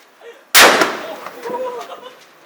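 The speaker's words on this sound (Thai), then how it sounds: "เราจะจุดอย่างนี้ไปเรื่อยๆจนกว่าประทัดของเราจะหมดนะครับ" A firecracker set off at midnight during Hmong New Year celebrations gives one sharp, very loud close bang followed by a long, rumbling decay, with faint voices underneath.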